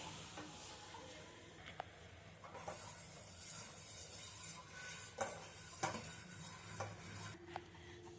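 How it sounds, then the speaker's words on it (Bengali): A ladle stirring firni rice pudding in a pot, quiet repeated scraping and swishing strokes with occasional soft metal knocks against the pan, close by and alone. "এবার আমি এইভাবে নাড়তে থাকবো, যাতে নিচে না দলা বেঁধে যায়"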